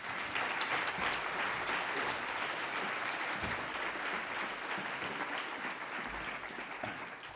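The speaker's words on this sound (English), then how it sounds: "Let's take one big round of applause." An audience at a college of health and human sciences scholarship brunch applauds steadily and loudly, a dense even round of clapping that holds for the whole stretch before easing slightly at the end.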